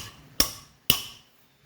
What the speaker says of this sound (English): Always helps to pop it with a hammer to break it loose.